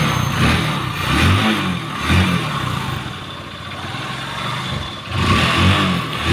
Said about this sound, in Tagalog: umandar na po yung motor ng ating katropa